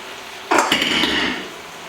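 Penne pasta tipped into a pan of soft onions and bacon, a single clattering, rattling pour lasting about a second that fades into a light sizzle, close by.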